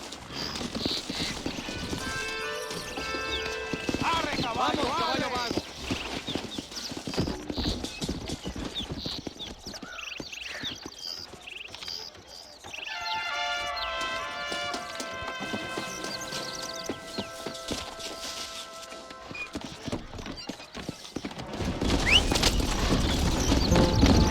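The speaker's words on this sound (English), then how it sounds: "You can take your horse or ride on the wagon." Steady clip-clop of horse hooves trots along for the whole stretch, rhythmic and fairly close, with creaks, clatter and a few faint whinnies around it.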